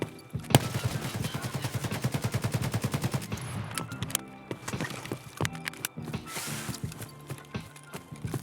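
Rapid bursts of rifle and automatic gunfire in the video game Escape From Tarkov, including Mosin rifle shots, ring out loudly in a dense rattling volley, followed by scattered single shots and mechanical clicks.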